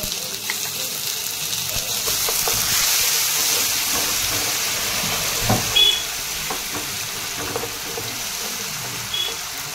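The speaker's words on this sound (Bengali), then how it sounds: "আগের থেকে তৈরি করা রাখা পেস্টটা আমি দিয়ে দিচ্ছি। আদা, রসুন, লঙ্কা, পেঁয়াজ।" Ginger, garlic, chili and onion paste frying in a pan for an egg poach curry, a steady sizzle with occasional stirring scrapes and small clinks.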